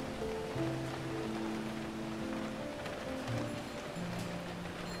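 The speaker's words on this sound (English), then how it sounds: "I love sitting on a bench and listening to the rain." Rain falls in the cozy video game Rainy Day as a soft, steady, even patter, with gentle sustained music notes drifting over it.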